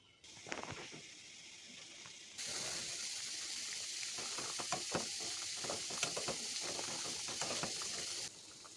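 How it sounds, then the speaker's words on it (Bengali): Young ash gourd peel simmers in a pot of hot water, giving a steady bubbling hiss with scattered small pops and ticks that carries on alone at a moderate level. "এই পর্যায়ে আমি সেই কচি চাল কুমড়োর খোসাটা দিয়ে দেব এখন এটাকে মোটামুটি একটু সেদ্ধ করে নেব"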